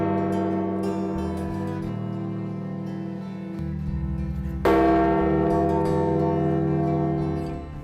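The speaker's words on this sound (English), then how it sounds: "Church bells across Italy tolled at midday on April 21st to mark the Pope's passing." Church bells across Italy toll at midday for the death of Pope Francis, a rich, sustained peal of overlapping ringing tones, with a loud fresh strike partway through that swells the resonance.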